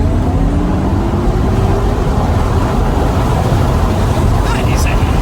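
MG Cyberster sports car driving with the roof down, a loud steady engine and road roar with a faint rising tone as it accelerates, continuous throughout.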